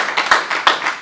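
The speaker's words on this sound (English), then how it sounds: "Give them a hand clap." An audience claps at a church-style gathering, with a few distinct, fairly loud rhythmic claps close by, spaced in short bursts over about a second.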